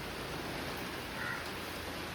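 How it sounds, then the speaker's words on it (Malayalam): Steady rain falling outdoors at night during a thunderstorm, a continuous broadband hiss that stays even and fairly faint throughout with no voices over it. "മഴ പെയ്യുന്നുണ്ട് കേട്ടോ."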